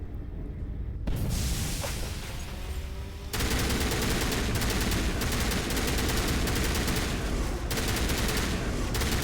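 Dense, sustained gunfire from the Mass Effect 1 Legendary Edition shooter: rapid automatic bursts packed together, loud and continuous for about nine seconds, growing heavier after the first few seconds, with no talk.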